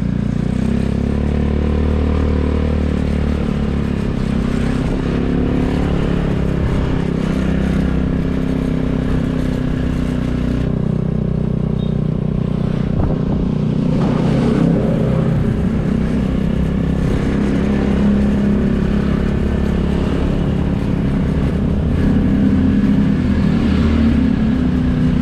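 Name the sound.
motorcycles riding on a narrow shortcut road in Bali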